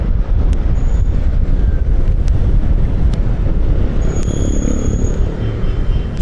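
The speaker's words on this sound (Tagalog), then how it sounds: "malakas ang hangin" Strong wind buffeting the microphone while riding a Fortress 160 motorcycle in rain, a loud continuous low rumbling roar with occasional faint ticks.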